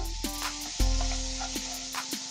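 Chopped medium tomato stirred into sizzling masala in a frying pan, with a spoon scraping and clacking against the pan a few times over a continuous close sizzle.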